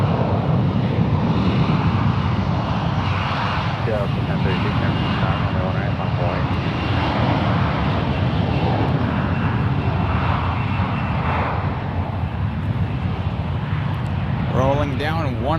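Aircraft engines roar steadily at San Francisco International Airport, a loud, continuous jet rumble close by with some wind buffeting, while air traffic control radio chatter cuts in over it.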